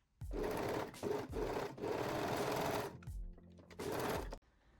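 Sewing machine stitching a side seam of a thong with fold-over elastic, several close bursts of rapid motor whir separated by brief stops.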